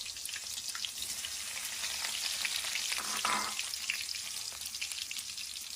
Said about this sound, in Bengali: তেল গরম হয়ে আসলে আমরা একটু করে পেঁয়াজ দিয়ে রাখবো